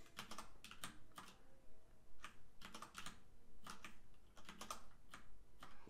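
Someone types on a computer keyboard in quick bursts of clicking keystrokes, close and clear with short pauses between runs.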